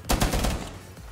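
Gunfire in the video game Rainbow Six Siege, a quick burst of four or five sharp, loud shots in rapid succession that fades out within about a second.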